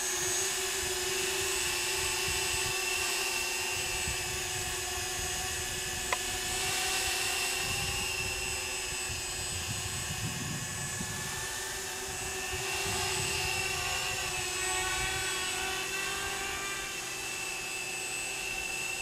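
Prototype quadcopter drone with four rotors in flight, a steady high-pitched buzzing whine that holds for the whole stretch, swelling slightly as the rotors speed up and slow down, with no talking.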